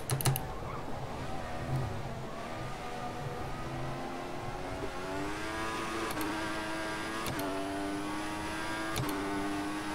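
Formula One car engines in the F1 2014 racing video game whine steadily and climb in pitch as another car pulls alongside, with a few sharp keyboard clicks over the continuous drone.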